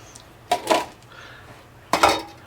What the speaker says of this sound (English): To a pan, we're going to add 1 1/3 cup of sugar, 1/3 cup of cornstarch,